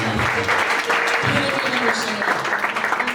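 A church conference congregation applauds steadily throughout, a dense crowd clapping that stays loud, mixed with voices and a low hum beneath.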